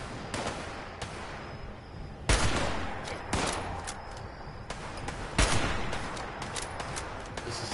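Rapid bursts of video game gunfire crackle in dense volleys, with a few sharper heavy shots standing out over a continuous stream of shooting.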